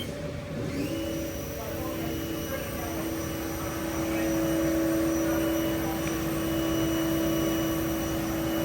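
A 2013 HAAS TM-1 CNC vertical milling machine spindle runs at its 4,000 RPM top speed, giving a steady, continuous whine with strong sustained tones over a broad hum, close and fairly loud throughout.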